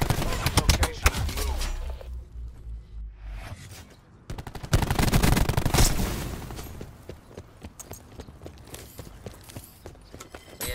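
Maddox rifle fire in Black Ops 4, with dense bursts of rapid shots and clattering action throughout, loud and close, while a player talks over the gunfire.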